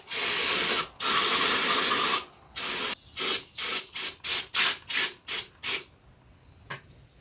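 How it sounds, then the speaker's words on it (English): Aerosol brake cleaner hisses in two long bursts onto a Ski-Doo 335 carburetor, then a rapid series of short spritzes, followed by quiet. "I'm going to spray everything down with brake clean and then blow everything off with the air hose"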